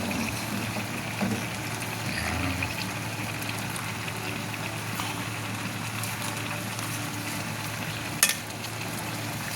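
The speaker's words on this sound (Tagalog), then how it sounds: "Kumukulo na siya." Liquid bubbles and simmers steadily in a pot of dinengdeng vegetable soup with saluyot, a continuous soft boiling hiss with a couple of small clinks, close by and without voices.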